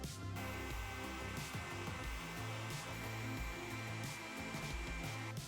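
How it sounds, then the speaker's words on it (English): A heat gun blows steadily up close, giving a loud, continuous whooshing roar with a faint whine that holds level from start to finish. "And get the heat gun."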